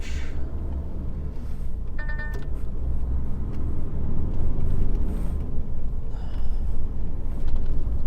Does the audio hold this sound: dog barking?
no